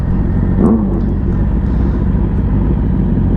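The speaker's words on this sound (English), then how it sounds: "Oh wow, that air shifter is..." A 2017 Yamaha R6 sport bike with an air shifter hums with a loud, steady engine rumble close by. A brief change in pitch comes early as it shifts gear.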